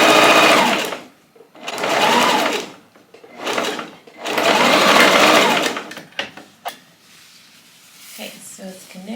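Domestic sewing machine stitching a cropped puffer jacket, running in three long bursts of steady whirring separated by brief pauses, followed by softer handling clicks and rustles near the end.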